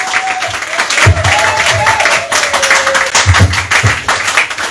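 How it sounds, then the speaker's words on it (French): A church congregation claps in a steady rhythm and shouts with joy, a loud, dense mass of hands and voices with a sustained held tone running across it. "Est-ce que quelqu'un peut m'aider à pousser les cris de joie?"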